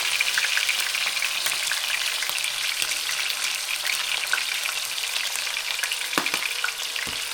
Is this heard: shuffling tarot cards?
no